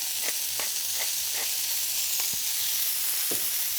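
Thin smash burger patties fry in a hot pan, giving a steady, close, bright sizzle with occasional small pops and scraping ticks, with no talking over it.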